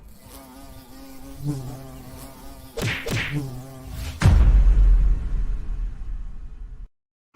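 An insect buzzing sound effect: a loud, wavering fly-like drone that swoops in pitch, followed by a heavy thud or whack and a sustained rumbling tail that cuts off abruptly.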